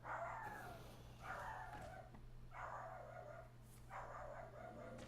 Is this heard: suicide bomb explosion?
no